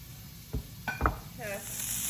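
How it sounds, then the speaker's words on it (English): Napa cabbage tossed into a hot pan gives a few brief thumps and a rising sizzle that settles into a steady hiss, fairly close, with no talk over it. "now I'm gonna add the Napa cabbage. Just gonna toss it right in."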